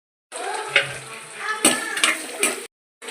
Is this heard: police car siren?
no